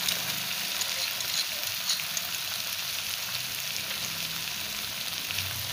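Masala with tomato ketchup and Schezwan chutney sizzling and frying in a pan, a steady, even crackle from start to finish with no voices.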